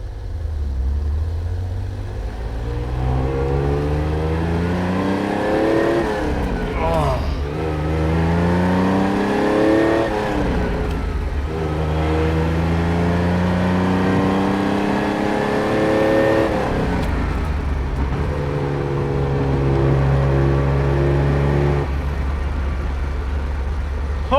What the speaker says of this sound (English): With that exhaust note, that engine, it does not sound like any V6 engine I've ever heard.